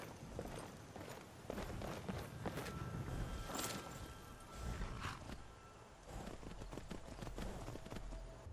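A horse in the Skyrim video game trots along, its hooves clip-clopping in a quick, fairly regular rhythm of close, clear footfalls that rise and ease a little in loudness.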